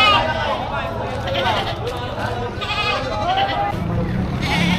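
Goats bleat repeatedly amid the bustle of a livestock market, wavering calls from several animals over crowd noise and nearby talk.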